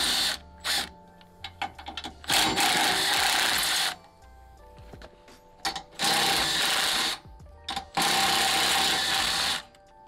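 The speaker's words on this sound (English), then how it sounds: "I'm just gonna use this little 3/8-inch socket bit, and then I'm just gonna pull these off that way." A power driver fitted with a 3/8-inch socket bit backs self-tapping screws out of a propane tank bracket on a No Boundaries NoBo 19.3 travel trailer, giving three loud whirring bursts of about a second and a half each, separated by short clicks and handling noises.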